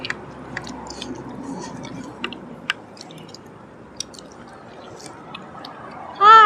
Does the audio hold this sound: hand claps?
no